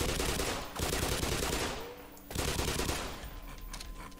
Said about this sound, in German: Der hat irgendwie gerade ein paar Schüsse abgeblockt oder so.